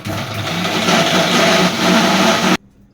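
A kitchen mixer grinder whirs steadily, grinding tamarind soaked in water for a chutney; the loud motor drone runs continuously for about two and a half seconds, then cuts off abruptly into near silence.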